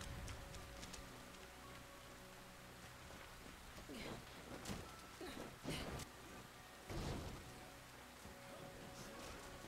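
Steady hiss of rain falling in the video game Wo Long across the whole stretch, with occasional sharper bursts and faint tones layered underneath.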